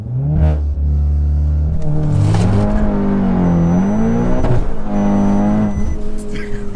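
A 530 HP Skoda on ordinary road tyres accelerates hard with all four wheels spinning, its engine roaring loud and close as the revs climb and drop through shifts, with tyre noise underneath.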